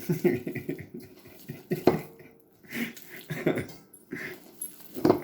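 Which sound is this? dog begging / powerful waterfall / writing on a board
dog begging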